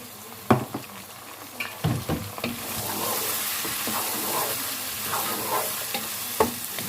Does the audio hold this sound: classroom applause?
no